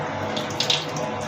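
Water pouring into a cooking pot holding dried fish, a short close splashing gush with a couple of brighter bursts, loud and steady, no voices.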